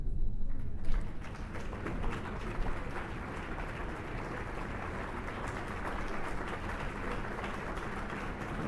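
Audience applause greets the Mayor of Chicago, Rahm Emanuel, at a public event, rising sharply in the opening second and then holding as a steady, dense wash of clapping for the rest of the stretch, with no voices on top.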